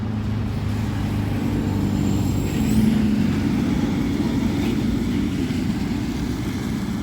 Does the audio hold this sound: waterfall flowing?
no